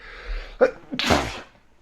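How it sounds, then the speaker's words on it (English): A single person sneezes into an elbow, a short breathy intake followed by one muffled burst, close and isolated with no talk. "I sneezed into my elbow."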